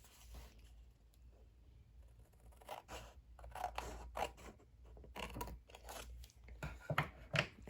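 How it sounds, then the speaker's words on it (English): Scissors cut paper along a score line for a handmade mini pocket flipbook, a series of close, crisp snipping and crunching cuts growing denser toward the end, with no talk. "We're going to, on the left side, we're going to cut off that score line right up to the middle."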